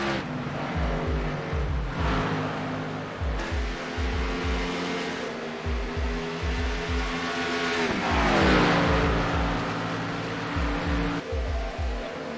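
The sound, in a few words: race car on the track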